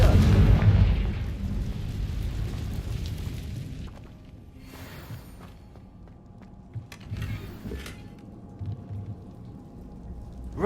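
A Confringo blasting spell explodes in Hogwarts Legacy, a loud, deep booming burst at the start that rumbles and fades over several seconds, followed by quieter scattered thuds and footsteps.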